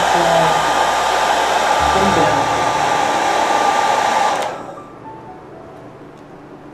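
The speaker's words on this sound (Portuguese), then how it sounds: "E o secador acelera a secagem, né?" A handheld hair dryer blows loudly on a cupcake decoration, a steady whooshing roar that shifts pitch partway through, then cuts off, leaving a faint room hum and a few brief spoken words at the end.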